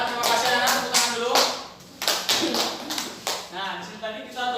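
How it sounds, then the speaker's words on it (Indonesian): Fifth-grade children in an Indonesian classroom clap their hands together in a series of sharp, rhythmic bursts, close and loud, with voices mixed in between the claps. "Tepuk tangan dulu."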